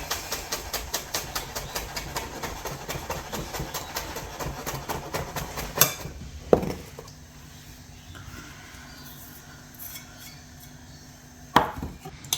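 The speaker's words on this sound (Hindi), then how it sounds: "फ्रेश मिंट है, इसको भी चॉप कर लें।" Fresh mint is chopped with a knife on a board while a seekh kabab gravy is prepared. Quick, steady strokes tap close and loud for several seconds, then quieter handling follows with a couple of isolated knocks.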